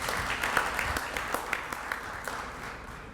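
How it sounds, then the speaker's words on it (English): A modest round of applause at a press conference for a Bicentennial Black Honors event, with scattered claps from a small audience heard at moderate distance, fairly quiet and without speech over it. "Let's give Charlie Batch a round of applause, please."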